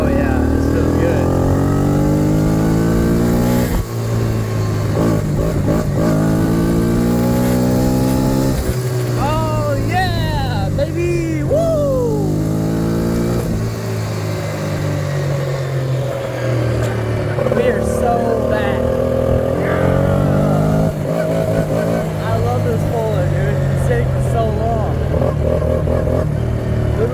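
A Yamaha 80cc four-wheeler engine with a new carburetor and battery runs steadily and revs up and down repeatedly, loud and close, with a person talking over the engine.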